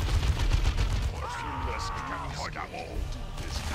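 Rapid bolter gunfire from the Dawn of War 2 video game rattles in a dense, continuous stream of shots, with voices talking over the battle noise throughout.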